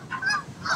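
Geese at a boat launch give a few quick, loud honks in rapid succession, close by and briefly overlapping.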